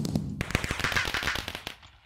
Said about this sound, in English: it just makes all those blue fireworks